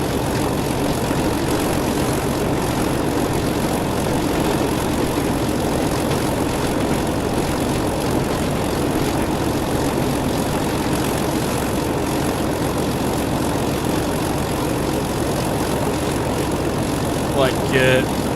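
An old diesel locomotive idles in Train Sim World 6, a steady low rumbling drone that holds at an even level throughout, with a brief higher clatter near the end.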